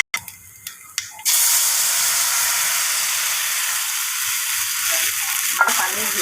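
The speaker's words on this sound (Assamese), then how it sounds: "সৰিয়হ ভাজি লৈছোঁ ভালকৈ।" Black mustard seeds, curry leaves and fenugreek fry in hot oil with a steady, close hiss and sizzle after a few brief clinks, continuing evenly with faint crackles.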